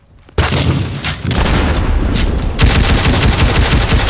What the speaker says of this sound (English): He dropped 2 hand grenades,